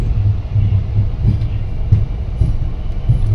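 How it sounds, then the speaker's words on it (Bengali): A passenger train rumbles along the rails, heard from inside the carriage with a loud, heavy low drone and regular wheel clacks at steady intervals. "ট্রেনের গতিও খুব ধীর হয়ে গেছে"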